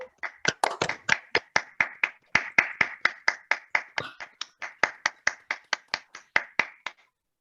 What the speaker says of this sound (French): vous commencerez à taper dans vos mains, doucement au début et de plus en plus fort